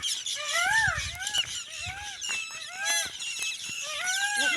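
Outdoors, peafowl call again and again in overlapping bursts of squealing, rising and falling cries, some near and loud, with a few faint low thumps between them.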